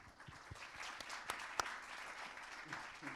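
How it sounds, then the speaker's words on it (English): Audience applause for a panel at a university climate conference, a moderate, fairly sparse clapping with a few louder individual claps standing out over about three seconds. "A round of applause for the panel,"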